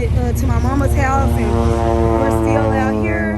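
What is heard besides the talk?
crop duster plane flying over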